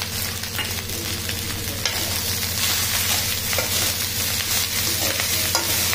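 Leftover rice from the previous night with finely chopped coriander frying and being stirred in a pan, a steady, close sizzle and crackle with rhythmic scraping throughout and no voices.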